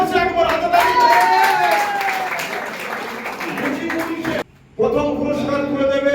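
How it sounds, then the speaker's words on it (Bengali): A crowd claps at a pigeon club prize giving, scattered applause running beneath a loud amplified voice and tonal background sound. "জোরসে একবার হাতে তালি।"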